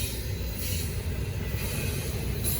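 A Norfolk Southern freight train rolls past nearby in Gaffney, South Carolina, a steady rumbling drone of wheels on rail with faint squeals, continuous and fairly loud, no voices.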